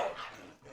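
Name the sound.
dogs barking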